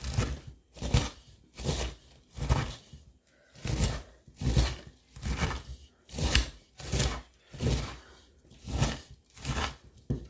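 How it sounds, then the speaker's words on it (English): Rhythmic knife chopping on a cutting board, food being cut for a Memorial Day family meal at home; about a dozen sharp, steady thuds in a regular beat, close and fairly quiet, with no talking. "just chopping it up"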